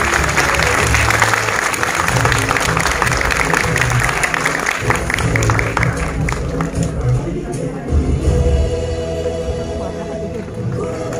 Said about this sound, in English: Please may we have a huge round of applause for this team.